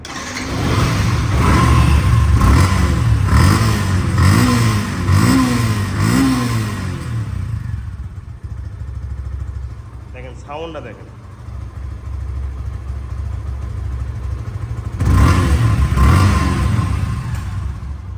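A second-hand Yamaha FZ motorcycle with low mileage revs several times in close succession, its pitch rising and falling, then settles to a calmer idle before another burst of throttle. Someone talks over parts of it.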